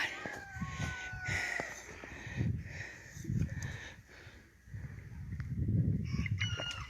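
Chickens clucking and calling in short bursts in a snowy yard, with a rooster-like crow and scattered bird chirps over a low outdoor rumble.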